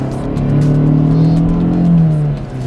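A 2022 Kia Stinger GT-Line with an 8-speed automatic rises in pitch through a downshift, its fairly quiet exhaust swelling loud and close for a couple of seconds before easing off.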